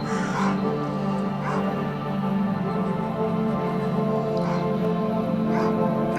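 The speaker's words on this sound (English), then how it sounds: "I just want to run past these doom dogs and not have to waste ammo on them" Doom dogs in the video game STALKER Anomaly, a few short barks and yelps rising over a steady droning game ambience, fairly faint and spaced out.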